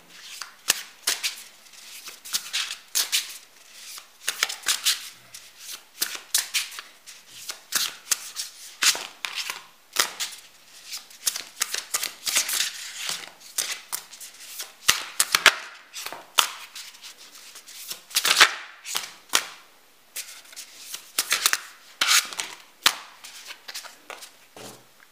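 Tarot cards are shuffled by hand in quick, crisp riffling bursts that repeat steadily for a long stretch, close and fairly quiet, with no talking.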